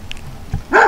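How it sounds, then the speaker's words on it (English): A guard dog at a rural farmhouse gives a short bark after a couple of faint yips, brief and fairly close. "Guard dog seems to know his duties on the farmhouse."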